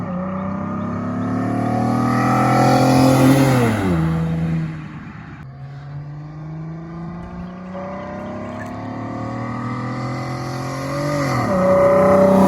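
Honda Accord CG6 fitted with a test pipe, heard up close as the engine revs and climbs in pitch, drops off, then surges again in a second loud run.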